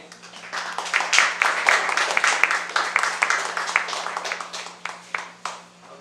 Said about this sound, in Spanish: Un aplauso para el doctor Guillén.